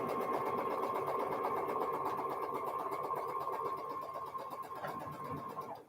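A sewing machine stitches quilt block pieces in a steady, fast mechanical whir with fine repetitive ticking, close and moderately quiet, slowing briefly and stopping near the end.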